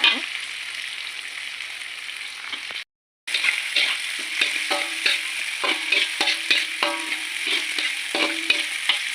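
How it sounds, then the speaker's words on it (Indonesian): Chicken liver and kecombrang (torch ginger) leaves stir-fried in a pan give a steady, close sizzle with crackles and stirring scrapes, broken by a brief silent gap before the frying resumes. "Lanjut kita oseng-oseng ya"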